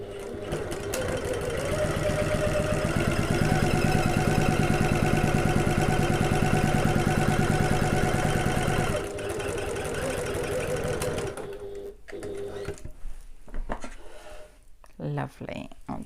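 Domestic sewing machine stitching the gusset pockets of a fabric bag, a steady close mechanical whir running continuously for several seconds, then stopping and giving way to short intermittent handling sounds.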